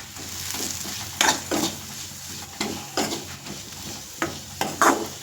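Sliced onion frying with turmeric and chili powder in a pan for okra palya, a steady sizzle with several louder bursts of stirring scrapes spaced through, close and alone with no voices.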